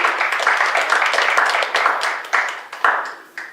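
Enthusiastic audience applause at a Juneteenth gathering in Las Vegas, dense and continuous clapping that swells and then tapers, with sharper individual claps near the end.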